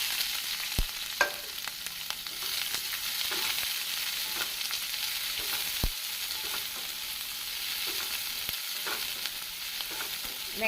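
Ten chopped small onions sizzle in hot oil with cumin seeds and a bay leaf, giving a steady, fairly quiet frying hiss. A few sharp clicks of stirring break through it, and no one speaks.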